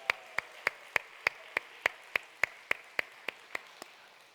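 Steady rhythmic clapping from a congregation at a Friday evening church service, roughly three claps per second for several seconds, crisp and moderately loud, fading slightly at the end.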